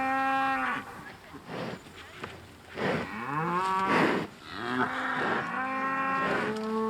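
Several cows moo one after another in long, loud, drawn-out calls, close by and alone with no voices, their lows rising and falling in a steady sequence.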